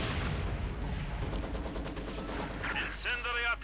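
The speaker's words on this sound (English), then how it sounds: "mortar firing in there from the Granatenwerfer" Granatenwerfer mortar firing in Company of Heroes 2 battle, sustained rumbling gunfire and impacts over a continuous game soundscape, with a few brief synthetic chirps near the end.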